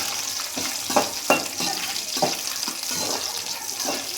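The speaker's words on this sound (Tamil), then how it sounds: "கடுகு, உளுத்தம் பருப்பு போட்டுக்கலாம். வரமிளகாய் போட்டுக்கலாம். நல்லா ஃப்ரை பண்ணணும்." Mustard seeds, urad dal and dried red chillies fry in hot oil with a steady sizzle, and a spoon stirs the pan in several short scraping strokes. Nobody speaks.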